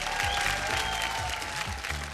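On a TV show stage, an audience claps to welcome the judges. The applause is steady and moderate, with a musical tone and thumping beats running underneath.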